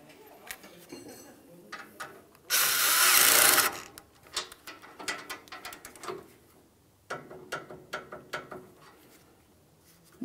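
A 13mm headed mounting nut is snugged down on an AC line fitting during a Ford Flex condenser and receiver drier replacement, with quick ratchet clicks and metal taps, one brief loud burst, and more clicking in spurts.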